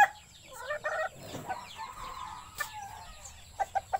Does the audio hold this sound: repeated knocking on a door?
no